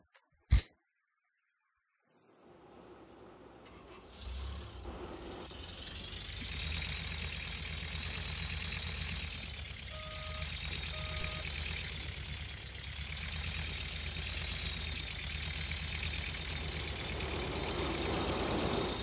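A wash plant belt running with dirt in the Gold Rush video game, a steady mechanical drone that starts after a sharp click and a short silence, then rises and holds with engine-like idling beneath.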